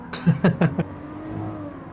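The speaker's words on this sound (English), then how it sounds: "as we hear them, they're revving their engines, so lights are about to come on" RSS Formula Hybrid V12-R race cars rev their engines on the grid at the Red Bull Ring in a racing simulator, with four sharp, loud throttle blips followed by a steady engine drone.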